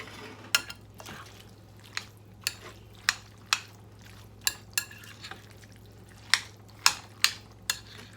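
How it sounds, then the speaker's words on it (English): Creamy Italian pasta salad being mixed in a bowl: a series of sharp clicks and taps of a utensil against the bowl, roughly one every half second, fairly close, over a faint low hum with no speech. "you want to mix it good, really well"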